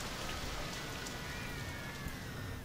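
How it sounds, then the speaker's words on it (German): Heavy rain pours in Rollercoaster Tycoon 3, a dense, steady hiss of falling drops filling the whole stretch at an even level. "Und es gießt mal wieder nur wie aus Eimern."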